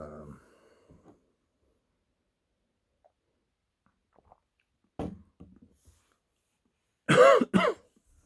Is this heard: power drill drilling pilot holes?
no